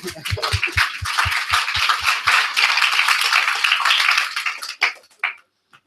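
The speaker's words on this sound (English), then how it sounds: "Little applause for Mike Corey." An audience at a social travel summit in Hamburg claps for Mike Corey, starting with a few rhythmic, evenly spaced claps near the microphone that swell into a full round of applause and then fade away.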